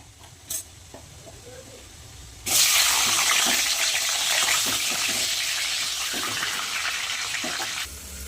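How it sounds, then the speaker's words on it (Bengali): A catla fish head hits hot oil in a wok and sets off a loud, continuous sizzle close by, which lasts several seconds before easing slightly. "এবার আমি মাথাটা মাছের মাথাটা ভেজে নেবো"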